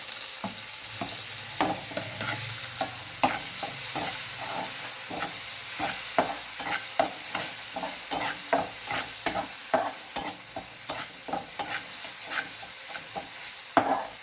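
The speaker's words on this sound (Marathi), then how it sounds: "कांदा चांगला परतलाय आता आपण टमॅटो टाकून घेऊ" Onion and tomato stirred and fried in a pan for vegetable fried rice: a steady sizzle with a quick, regular run of spatula scrapes and clicks against the pan, close and fairly loud.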